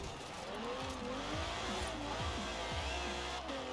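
Kia rally car in Forza Horizon 4 sliding on a rally stage, its engine revving and dropping through gear changes while tires squeal and skid continuously underneath.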